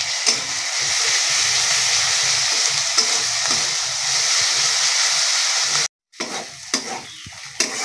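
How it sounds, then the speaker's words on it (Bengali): Onion with ginger-garlic paste frying in a pan, a loud continuous sizzle with stirring scrapes, cut off briefly before the sizzling resumes more unevenly. "আমি প্রথমে পেঁয়াজটা ভেজে নেব। পেঁয়াজের সাথে আদা রসুনটাও ভেজে নেব।"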